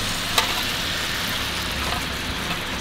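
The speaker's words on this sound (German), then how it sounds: "Und dann gehen wir mal hin mit unserer Soße. Und dann schütten wir das hier mal schön oben drüber." Sauce for BBQ pork with fried rice hits a hot pan and fries with a loud, steady, crackling sizzle that fills the whole stretch.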